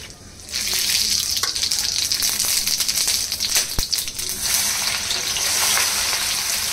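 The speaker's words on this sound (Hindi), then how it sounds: "तो ना तेल अच्छे से गर्म हो गया अभी हम ये खड़े गरम मसाले डाल रहे हैं इसके अंदर" Whole spices (cinnamon pieces, shahi jeera, green cardamom and cloves) sizzle in hot oil in a pan, a steady, close, loud frying hiss that continues throughout with no talk.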